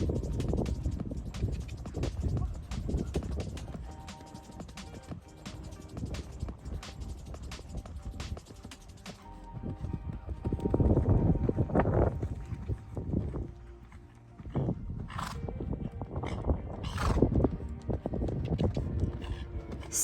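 A young horse canters through showjumping training, its hoofbeats thudding in an irregular, uneven rhythm across the whole stretch amid wind and ambient noise, with a voice occasionally audible.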